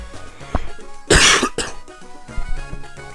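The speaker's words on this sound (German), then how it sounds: "Entschuldigung, wenn ich immer noch ins Mikro huste" A man coughs into his microphone: one loud, harsh burst of coughing with a smaller throaty sound before it, heard close and alone over a quiet game-music bed.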